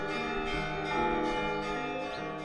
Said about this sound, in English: the sound of church bells was almost deafening